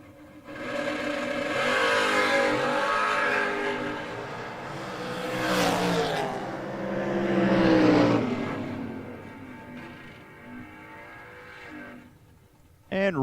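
Drag race cars, among them a 1958 Corvette, rev and roar off the line, their engines swelling loud and fading across the run while an announcer talks over them.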